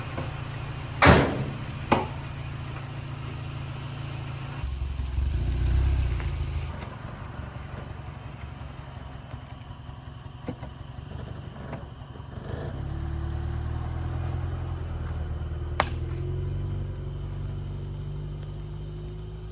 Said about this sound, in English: I think the idle's a little too low.